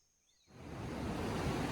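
Ocean surf at Manuel Antonio on the Costa Rican coast, a broad steady wash of breaking waves that swells up from near silence and holds loud and continuous, with no voices.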